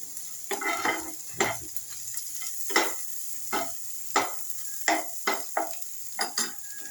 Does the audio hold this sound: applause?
no